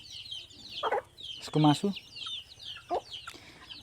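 Local chickens in Ilam cluck in short bursts close by, several separate calls over a few seconds, with a person speaking briefly among them.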